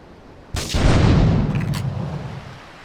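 Gunfire and explosions from the video game GTA 3: a sudden loud boom bursts in and rolls on for about two seconds before fading, close and heavy.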